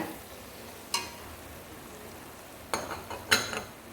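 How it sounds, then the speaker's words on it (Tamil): Homemade chilli powder frying in oil for a wild lemon pickle makes a soft, steady sizzle, broken by a few sharp metallic clinks of a spoon against the pan. "இது வீட்டு மிளகாய் இது நல்லா எண்ணெயில் கொஞ்சம் வதங்கட்டும்"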